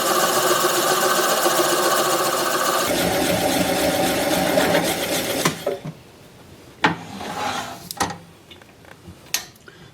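A wood lathe spins a large maple burl bowl while a gouge cuts into the bottom, a loud steady whirring that stops partway through, followed by scattered knocks and handling sounds.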